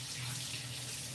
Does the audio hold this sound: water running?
yes